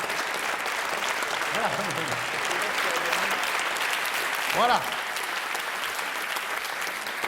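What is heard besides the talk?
audience applause at comedy show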